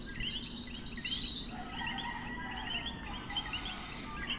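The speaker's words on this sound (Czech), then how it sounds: "Všemožný ptáci, žáby." Night chorus in Puerto Rico, many birds chirping and trilling in overlapping calls alongside frogs, a busy layered mix of high tweets over a low steady background hum.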